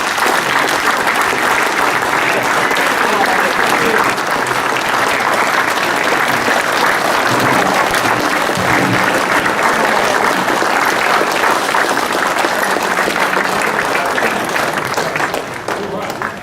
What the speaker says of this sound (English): I'd like everybody to just appreciate it in the best possible way by applauding him